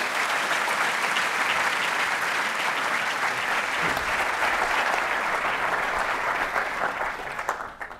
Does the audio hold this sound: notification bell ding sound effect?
no